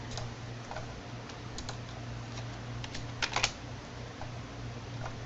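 Light, sparse typing on a computer keyboard, soft scattered key clicks with a brief quick burst near the end, faint over a steady low electrical hum with no talking.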